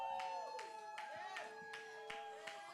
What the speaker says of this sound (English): I heard some snaps. We had a little bit of claps.